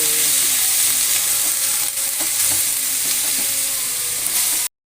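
Coarse hand-minced beef keema fries in a karahi with a loud, continuous sizzle, punctuated by the clink and scrape of stirring, before cutting off abruptly.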